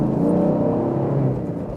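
A 2016 Ford Mustang GT or 2016 Chevrolet Camaro SS sports car accelerates hard, its engine giving a loud, deep, steady roar with a rising harmonic whine heard from inside the car, with no talking.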